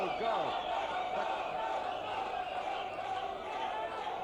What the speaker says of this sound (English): The crowd calling to Botile, go, go, go.